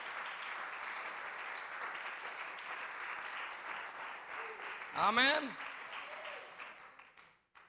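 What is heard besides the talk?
church congregation applause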